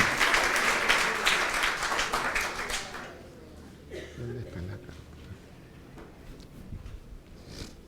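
A church congregation claps during a Mass, the applause loud and dense for about three seconds and then fading into scattered claps, chuckles and murmuring voices.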